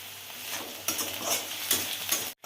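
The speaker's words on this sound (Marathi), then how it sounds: "आता मिरची सुद्धा भाजून घ्यायची" Chillies frying with a pinch of turmeric in a pan, giving a close, steady sizzle with scraping stir strokes on top, which breaks off briefly near the end.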